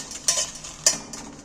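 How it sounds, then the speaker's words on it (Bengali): Dry red chillies roasting in a dry pan give a few sharp metallic scrapes as a spoon stirs them, with a quiet crackle between the strokes. "লঙ্কাগুলো আমি শুকনো খোলায় ভেজে নেব।"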